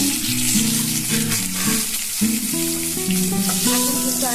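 Two bay leaves frying in hot oil in a pan as rice-and-lentil khichuri is started. A steady, bright sizzle runs continuously beneath louder background music.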